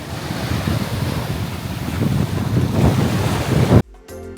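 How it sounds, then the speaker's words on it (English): Surf washing onto a clear-water beach at the Park Hyatt St. Kitts facing Nevis, a steady loud roar of breaking waves mixed with wind buffeting the microphone, cutting off abruptly near the end. "The beach here is absolutely gorgeous with clear water and a front row view of Nevis."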